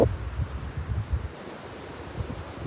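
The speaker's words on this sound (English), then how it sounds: "The wind has been absolutely insane." Strong wind roars steadily outdoors beside a highway during a tornado warning, a dense low rumble of gusts buffeting the microphone with no speech.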